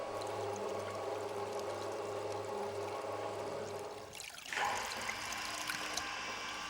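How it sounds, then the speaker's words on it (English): Whey pours and trickles off freshly cut curd while Allgäu mountain cheese is being made, a continuous liquid splashing that changes to a brighter dribble partway through, with a low steady hum underneath. "Next, the curd is separated from the remaining liquid or whey."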